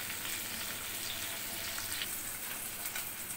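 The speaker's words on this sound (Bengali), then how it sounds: "কড়াইয়ে আর মাত্র একটা মাছ আছে ভাজতে বাকি" Katla fish frying in hot oil in a wok gives a steady, dense sizzle that crackles continuously and fairly loudly, with no voices over it.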